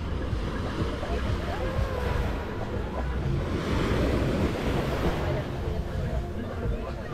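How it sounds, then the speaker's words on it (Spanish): Gentle sea surf at Paamul beach on the Riviera Maya, a steady wash of small waves and wind noise, continuous and close, with no talking over it. "escuchando las olas. Si es que se le puede decir olas. El ruido del mar mejor."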